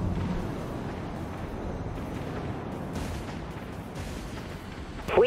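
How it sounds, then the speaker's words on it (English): Vulture missiles launching in the space combat game Dreadnought, a steady rumbling roar of rocket fire and booming blasts throughout, ending in a sharper louder burst. "Launching vulture missiles."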